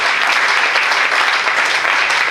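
Church congregation at a Sunday morning service applauding and cheering for Jesus, a dense, steady wash of clapping that holds at full loudness throughout without a break.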